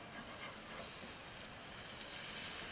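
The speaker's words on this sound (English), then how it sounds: "So I'm going to go flip my burgers." Lamb burgers sizzle in a frying pan after being flipped, a faint, steady hiss that swells slightly toward the end, with no talk.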